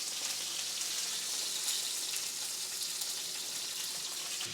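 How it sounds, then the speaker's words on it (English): Steak sears in hot grease on a stovetop, a steady, dense hissing sizzle that holds evenly throughout, heard close with no voices. "while that's sizzling back there"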